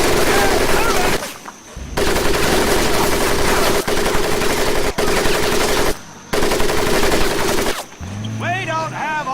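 Bursts of rapid machine gun fire roar in Medal of Honor Pacific Assault, long loud sustained volleys broken by brief pauses, ending with shouted voices.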